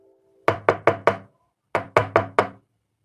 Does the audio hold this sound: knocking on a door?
yes